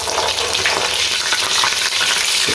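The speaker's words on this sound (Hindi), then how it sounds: "कबाब हमारे माशाल्लाह से बड़े ज़बरदस्त इधर फ्राई हो रहे हैं" Peshawari chapli kebabs frying in a pan of oil, a dense continuous sizzle and crackle, loud and close with no talking.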